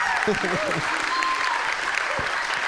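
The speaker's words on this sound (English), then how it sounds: "If you're going to clap, you got to clap." A church congregation claps steadily during a Sunday service, a continuous wash of applause under a speaking voice.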